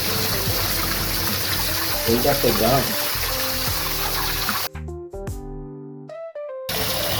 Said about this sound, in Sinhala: අපි නම් මේකට වතුර පුරව ගමුකෝ.